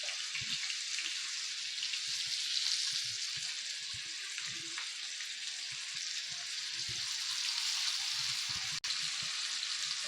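Vanjaram and kelangan fish fry in hot oil in a pan, giving a loud, steady sizzle throughout with faint low knocks and bumps underneath.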